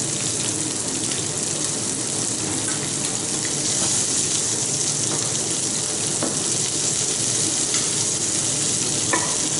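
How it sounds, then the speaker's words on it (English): Fish skin crisps in butter in a pan over steady heat, a continuous close sizzle and crackle with a few brighter pops, running unbroken throughout with no talking. "not moving it around, we're not covering the butter, just gently letting that skin get crispy"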